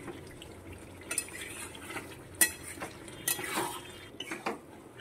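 Chicken masala is stirred and fried in a pan with a soft sizzle under intermittent scrapes and clinks of a spoon against metal, quiet and close.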